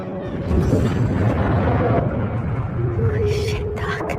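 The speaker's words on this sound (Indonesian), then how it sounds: "Bom pun akhirnya meledak di bawah tanah bersama dengan Jack." Underground bomb blast in an action film scene, a deep sustained rumble that swells at half a second and rolls on, with a brief voice and bright debris-like crackle near the end.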